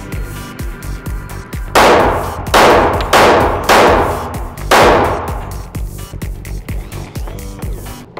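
Pistol shots from 1911 handguns, a Springfield Range Officer with a 5-inch barrel and a Kimber with a 4-inch barrel, fired outdoors at a range: four loud, sharp cracks about a second apart, each trailing a short echo.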